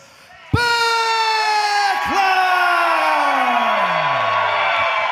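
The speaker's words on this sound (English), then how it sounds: "The crowd firmly behind our Rush Division champion, Buzz Backlund." A wrestling crowd at an OVW event cheers for the Rush Division champion. The loud, steady roar runs underneath an announcer's long, drawn-out shout that slowly falls in pitch.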